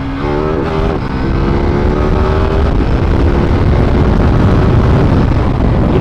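A KTM 790 Duke motorcycle accelerating hard as the throttle opens, loud steady engine roar with rising pitch over wind noise, heard up close from the rider's position.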